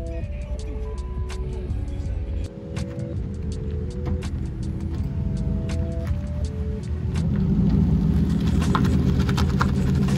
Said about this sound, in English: Sound like a GS400